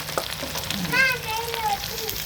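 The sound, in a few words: curry leaves frying in oil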